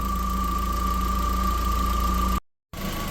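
An Audi TT Mk1 engine with a coolant leak idles steadily with a constant low hum and even mechanical drone, briefly cut off by a short gap before resuming.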